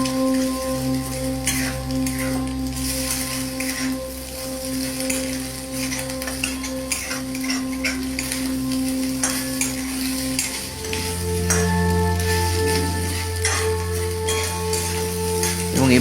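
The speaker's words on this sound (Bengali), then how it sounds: "এবং এভাবে নাড়াচাড়া করে বেশ খানিকক্ষণ ভেজে নেব" Egg and potato bhujia stir-fried in a pan, a steady hiss of sizzling oil with occasional scraping stirs and a constant low hum beneath, growing slightly louder toward the end.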